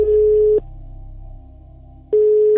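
A recorded telephone line gives a steady electronic tone that breaks into a lower humming lull for about a second and a half, then the same tone returns, loud and clear.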